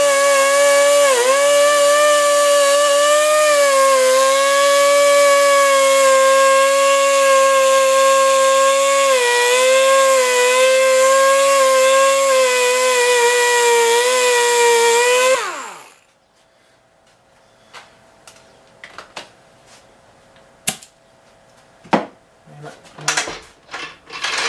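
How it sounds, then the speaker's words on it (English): A wire wheel on a power tool whirs loudly and steadily, scouring the mating surface of a flathead engine part, its pitch sagging slightly under load for about fifteen seconds before cutting off to leave a few scattered clanks and knocks. "I'm just going to clean up the surface with this wire wheel"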